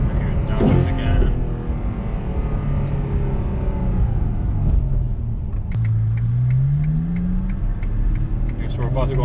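Ferrari 812 GTS V12 engine revving on a downshift, a loud sustained drone with a rising blip near the middle and continuous interior rumble throughout, with a voice talking over it.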